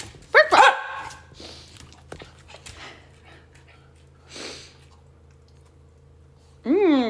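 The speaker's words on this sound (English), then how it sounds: "Can you bark, bark, bark, bark, bark?" A dog barks on command, one sharp close bark near the start and another near the end, with quieter talk and shuffling in between.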